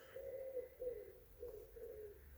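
A pigeon or jay calls outdoors in a series of soft, repeated cooing notes. The calls are faint and distant over quiet background noise.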